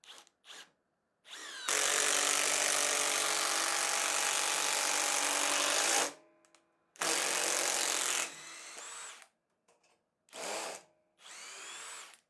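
Parkside PDSSAP 20 Li C3 cordless impact driver driving a 6x200 screw into a wall, then a second screw: a long loud rattling run of about four seconds, followed by shorter bursts and a few brief blips.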